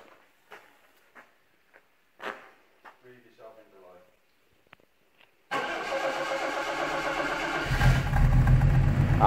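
A Jaguar XJ40 XJ6 barn find with seven-year-old petrol cold-starts after a few faint clicks and brief talk, its engine catching suddenly and settling into a loud, steady idle that rises further near the end.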